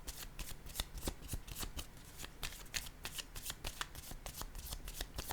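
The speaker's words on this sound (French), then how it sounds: "Allons-y avec une carte," A deck of playing cards being shuffled in quick riffles, with dense rapid flutters and sharp slaps repeating steadily at close range and no voices over it.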